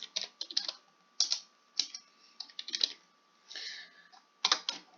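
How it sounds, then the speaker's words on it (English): Computer keyboard typing, entering a written answer into a quiz form: close, quiet bursts of rapid key clicks separated by short pauses, with no voices. "then type in my reason"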